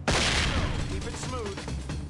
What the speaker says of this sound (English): And some explosions.